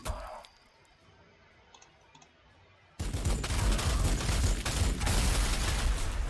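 Gunshots in Warhammer 40,000: Sanctus Reach: after a few seconds of quiet with faint clicks, a loud burst of rapid fire erupts and keeps going as a dense rattling volley.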